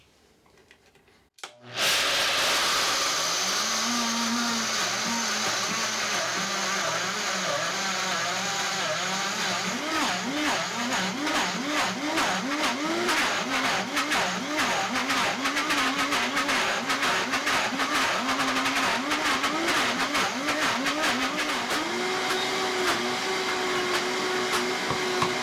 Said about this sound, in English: I'm using the tamper and blending on high speed.